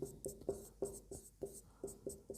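Pen writing on paper while working through a Class 12 integrals exercise, heard as repeated rhythmic scratchy strokes about every half second, close and fairly quiet, with no voice.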